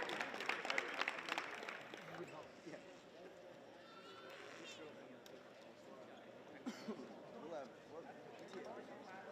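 Sustained audience applause at a collegiate water polo event honoring an Academic All-American from Missouri, a steady wash of clapping in a large venue with some crowd noise mixed in.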